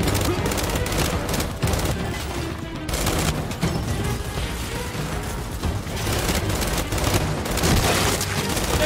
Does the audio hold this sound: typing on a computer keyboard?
no